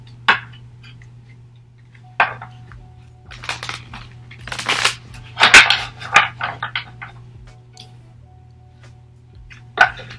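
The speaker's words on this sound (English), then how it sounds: "I'm just going to shuffle the cards" Marigold Tarot cards being shuffled by hand, a few quiet scattered riffles and soft taps followed by a brief flurry of card flicks, close and alone.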